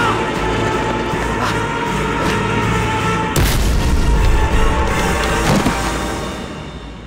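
An explosion goes off at a museum building. A loud, heavy boom hits midway through over a dense, continuous rumble, then fades slowly toward the end.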